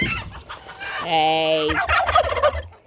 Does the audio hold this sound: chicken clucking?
yes